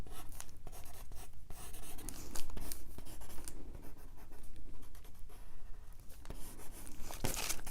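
Pencil tracing a drawing on folded paper makes a steady, close scratching and rubbing, with short strokes and faint paper rustles and crinkles running continuously without talk.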